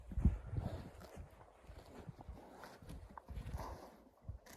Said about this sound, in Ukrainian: Ось він їх вже разом з тією кобилою запрягає і їздить